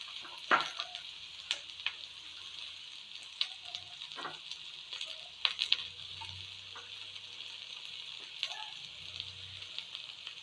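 Small chopped onion frying in a pan, a steady low sizzle with occasional stirring clinks and scrapes, close and fairly quiet, no talk.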